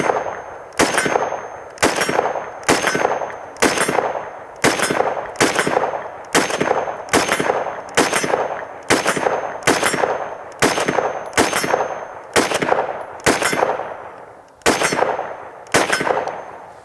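Seventeen evenly spaced rifle shots from a Springfield Armory Hellion bullpup fired at a 50-yard range ring out loud and sharp, each a hard crack followed by a brief decaying tail, roughly one per second with a short pause near the end.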